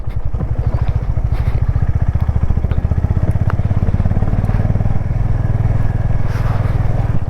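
A Honda Highness motorcycle rides off-road on rough ground in Hanle, Ladakh, its single-cylinder engine thumping in a fast, even rhythm, loud and close, with rattles and clatter from the bumpy track throughout.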